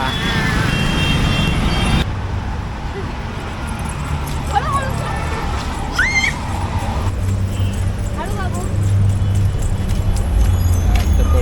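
Busy Mumbai suburban street in Sakinaka with a double-decker bus moving through traffic, giving a loud, steady rumble of engines and road noise while people talk over it.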